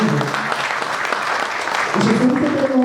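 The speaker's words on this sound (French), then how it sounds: "Est-ce que nous pouvons acclamer pour l'ASBEL?" A crowd at a Congolese immigration commemoration in Belgium cheers and claps for the ASBEL, loud continuous applause, with voices rising over it and a steady roar of hands.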